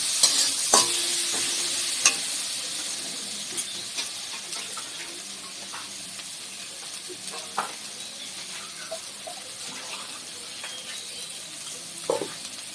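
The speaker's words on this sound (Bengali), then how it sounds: "সব কিছু দিয়ে ভালো করে কষিয়ে নেব।" Spice masala for a garlic and panch phoron bata fish curry sizzles and frys steadily in oil as it is stirred, with scattered scrapes and clinks of a spoon against the pan, close and continuous.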